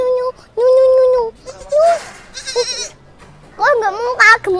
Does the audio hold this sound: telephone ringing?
no